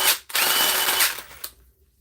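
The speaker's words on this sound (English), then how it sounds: "It's not a Dewalt impact if it doesn't have real wobble on it." A well-worn, wobbly DeWalt impact driver runs in a loud, buzzing burst that cuts out briefly near the start, then resumes and winds down to near silence.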